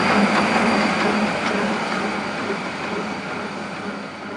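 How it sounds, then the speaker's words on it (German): Rhaetian Railway Ge 6/6 I Krokodil electric locomotive shunting across entry switches, giving a steady, close mechanical rumble with faint clanks from the rocking coupling rods, fading slightly as it continues. "Die Hin- und Herbewegung der Kuppelstangen mit entsprechendem Sound ist sehr speziell und man spürt dabei die ganze Kraft und Mechanik der Lok."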